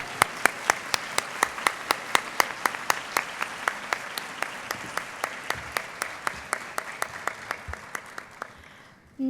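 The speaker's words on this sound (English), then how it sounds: "Can we please give them a huge round of applause?" An audience at a Latina/o graduation celebration applauds in a steady, evenly spaced rhythmic clap with dense clapping behind it, loud and close, tapering slightly toward the end, with no speech over it.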